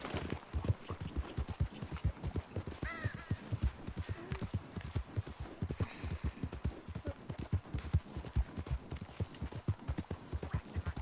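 Steady rhythmic clip-clop of horse hooves at a trot in the video game Red Dead Redemption 2, continuous and fairly quiet, with a faint low hum underneath.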